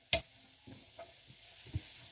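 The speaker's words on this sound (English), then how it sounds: "I want to saute that around. I want to get it quite soft." Onion and garlic sautéing in a pan, with a soft sizzle beneath a few light, scattered stirring clicks and scrapes of a utensil, fairly quiet throughout.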